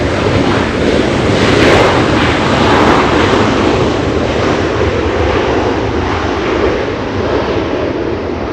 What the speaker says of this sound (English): Let's go to the first one, Dreamliner. Flying in from Tokyo Narita, 9 hours, 27 minutes of flight time